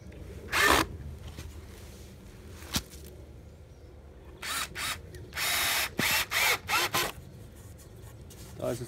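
A screw is driven into a wooden bushcraft campfire chair, with short whirring bursts from a power driver, one early and then a cluster of several quick pulses later, separated by quiet handling sounds outdoors.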